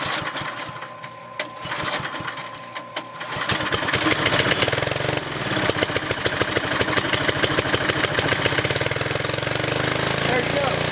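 An engine runs steadily throughout a second automated run, starting quieter and then rising into a louder, dense mechanical rattle with rapid regular pulses from around four seconds on, close by and continuous.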